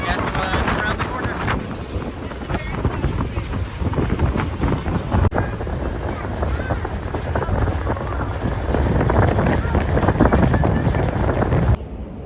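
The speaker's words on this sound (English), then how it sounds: "we're on the Staten Island Ferry" Wind buffets the microphone aboard the Staten Island Ferry crossing open water, a loud continuous roar with engine and water rumble beneath, steady throughout with no clear talk.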